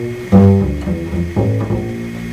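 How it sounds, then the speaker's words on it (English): Bass notes played on a BluesBox instrument, with two plucked attacks whose pitch bends and slides. Loud and close, with no talking. "bend a note on the bass."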